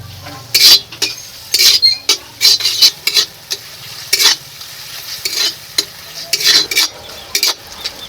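Spice mix with tomatoes stir-fried in a pan, loud irregular bursts of scraping and clinking from a spatula against metal over a quieter background sizzle, close up and without talk.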